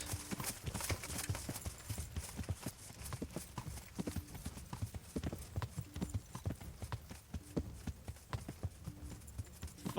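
A horse's hooves clip-clop steadily in the video game Kingdom Come Deliverance, a quick even rhythm of close hoofbeats that runs throughout, fairly faint.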